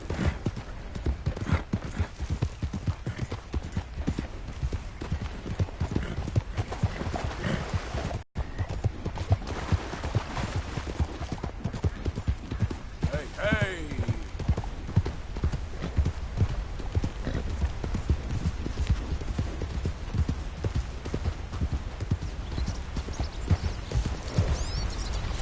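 Steady clip-clop of horse hooves from riding in Red Dead Redemption II, an even galloping rhythm that runs close and loud throughout with a brief cut partway through, and no talk.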